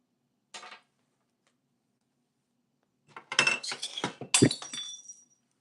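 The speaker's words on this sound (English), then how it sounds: "No, you ain't supposed to be breaking no glass." Glass breaking indoors: a short clink, a pause, then a loud burst of shattering with scattered tinkling shards that fade out, alone without talk.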